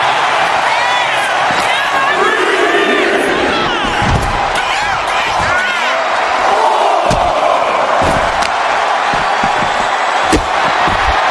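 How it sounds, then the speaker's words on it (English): Arena crowd cheering loudly in the wrestling video game WWE 2K25, a constant roar with whoops and sharp slams and thuds of ring action cutting through, and commentary voices underneath. "the crowd is loving it here tonight"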